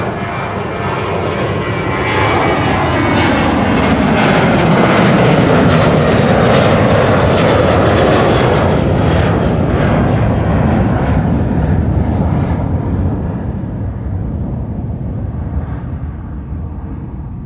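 A narrow-body airliner departs Amsterdam Schiphol with a loud, sustained jet roar that builds to a peak mid-pass and then slowly fades as it climbs away.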